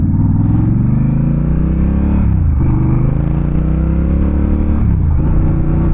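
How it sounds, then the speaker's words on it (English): A 2025 Honda Rebel 1100 motorcycle's exhaust drones loudly and close while riding, with the engine note dipping and rising again twice as the rider shifts through gears. "This exhaust is actually pretty loud."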